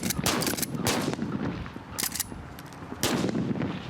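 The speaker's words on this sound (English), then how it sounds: "Fire! Gunfire!" Period guns fire on the film set of The Mummy 3, with sharp, loud bursts of rapid shots in several clusters, close up and echoing between volleys.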